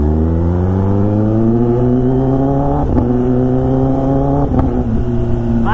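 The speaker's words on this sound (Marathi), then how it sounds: "बेकार फटाका मारते" A Kawasaki ZX10R motorcycle revs loudly and steadily as its engine note climbs and dips, with a few sharp exhaust pops cracking through near 3 and 4.5 seconds, echoing between residential buildings on both sides of the road.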